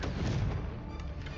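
Confringo fire spell blast in Hogwarts Legacy: a heavy, booming burst with deep rumble, dense and loud, fading slightly over about a second and a half with no talking.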